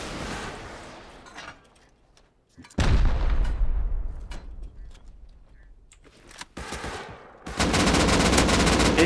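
Gunfire in the survival video game Rust: loud bursts of rapid automatic shots with sharp single reports, separated by decaying echoes and short lulls, ending in a dense, sustained volley.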